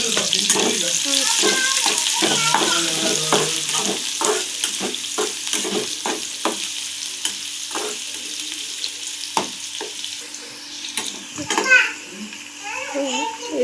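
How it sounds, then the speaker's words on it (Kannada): Onions fry in oil with curry leaves, a strong hissing sizzle that gradually softens, broken by spoon clatters and stirring scrapes, with a voice and other talk nearby. "ಈರುಳ್ಳಿ ಕೆಂಪಾಗುವವರೆಗೂ ಫ್ರೈ ಮಾಡಿಕೊಂಡು"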